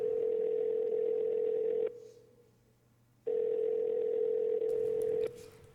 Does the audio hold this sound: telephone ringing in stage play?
yes